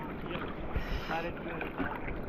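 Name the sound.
wind at the beach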